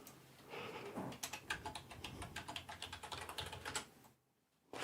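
Quick, close clatter of fingers typing on a computer keyboard, a dense run of light key taps that stops near the end, leaving quiet, with no talking.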